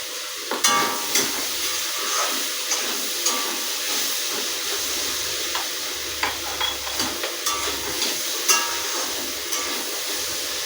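Potato and onion pieces fry in a hot wok, a continuous close sizzle and hiss broken by repeated scraping and stirring clatters from a spatula, with no speech.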